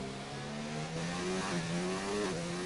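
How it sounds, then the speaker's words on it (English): Formula 1 car engine in an F1 racing video game on the USA circuit, revving up and climbing in pitch as it accelerates, steady and loud throughout with no voices. "He accelerates then across turn 10 across the crest and then down the hill."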